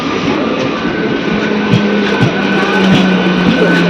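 A train at Hind Motor railway station rumbles steadily close by, with a constant mechanical drone, faint high tones and a few soft thumps of wheels over rail joints, and no talk.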